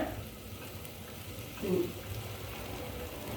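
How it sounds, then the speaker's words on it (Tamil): Tomatoes sauté in hot oil for a fish curry, giving a steady soft sizzle and crackle that runs through the whole moment, with a faint stir partway through. "கடைசியாக நம்ம வந்து தக்காளியை சேர்த்து நல்லா வதக்கிக்கலாம்"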